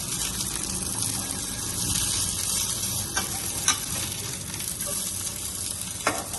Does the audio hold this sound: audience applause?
no